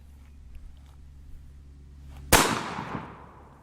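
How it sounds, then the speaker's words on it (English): A single loud blast from a 12-gauge shotgun loaded with number 8 shot, fired at a door lever barricade device, bursts out after a quiet low hum and decays over about a second. "using a 12-gauge shotgun with a number 8 shot in it"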